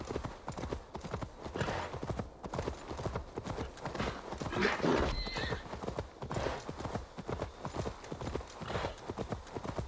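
Horse galloping in Assassin's Creed Valhalla, a rapid steady clatter of hoofbeats close by with a whinny midway through, continuing evenly throughout.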